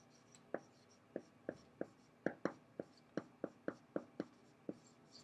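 Marker or chalk strokes on a classroom board, about fourteen sharp taps and scratches in an uneven rhythm, close and fairly faint, with no voices.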